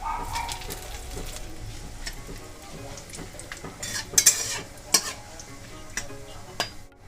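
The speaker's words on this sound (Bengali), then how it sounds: "এটা আমি ফোড়নে করে নেব।" Whole spices (bay leaf, dried red chilli, cardamom, clove, cinnamon and cumin) sizzle and crackle in hot oil, with a spoon stirring and scraping the pan and a few sharp metallic clinks.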